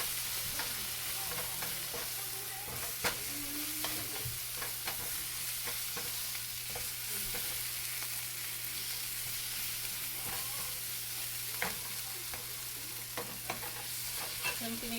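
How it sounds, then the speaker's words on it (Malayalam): Kerala-style fish masala being stirred in a frying pan, with chilli powder, coriander powder and masala sizzling in oil, soft scraping strokes over a constant low hiss and no talking. "നമുക്കിതൊന്ന് മിക്സ് ചെയ്ത് കൊടുക്കാം."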